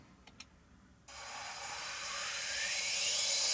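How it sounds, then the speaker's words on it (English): A whooshing swoosh effect in a studio music production, starting abruptly after a couple of soft clicks, then a broad airy hiss that swells steadily and rises in brightness over a few seconds. "And of course some swoosh and effect sounds."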